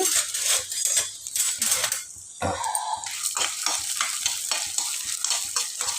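Urad dal, cumin, mustard and fenugreek seeds frying and being stirred in a pan for a Telugu roti pachadi, with a steady close sizzle, scraping stirs and a brief quieter pause midway.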